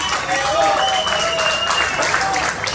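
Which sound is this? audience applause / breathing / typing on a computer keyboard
audience applause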